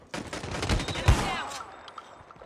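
Shotgun fire in Call of Duty Mobile, a dense burst of gunshots with a booming blast in the middle and a ringing tail, fairly faint.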